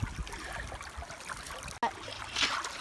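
Water runs steadily through a gold sluice box, its flow slowing toward the bottom of the sluice, giving a continuous close trickling and gurgling wash with a brief dropout near the middle.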